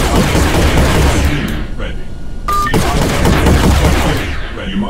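CIWS close-in defense gun blazing in the flying mech shooter Nimbus INFINITY, a dense, loud sustained burst of rapid fire that briefly drops out and resumes, mixed with game voices and effects.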